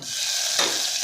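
Mustard seeds, cumin, hing and a ground paste drop into hot oil for tempering, giving a loud, close, steady sizzle with a brief flare of crackle partway through.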